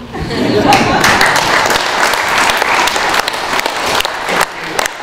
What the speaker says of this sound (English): give yourself a round of applause for giggling politely